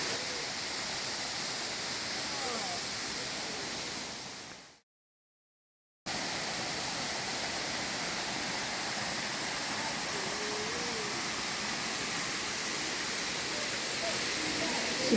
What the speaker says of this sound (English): this particular waterfall is amazing